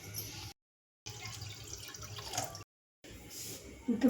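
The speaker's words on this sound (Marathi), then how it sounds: "2 ग्लास पाणी घेणार आहे." Two glasses of water are poured into a pot for cooking soybeans, quiet splashing pours in separate bursts with short silent gaps between, and a louder clink near the end.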